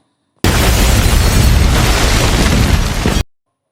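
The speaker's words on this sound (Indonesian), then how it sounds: "gedung itu pun meledak" A building blows up in a film scene, a loud, sustained explosive roar and rumble that bursts in suddenly, holds for about three seconds, then cuts off, with no talking.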